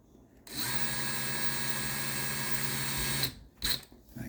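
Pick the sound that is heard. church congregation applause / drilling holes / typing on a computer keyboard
drilling holes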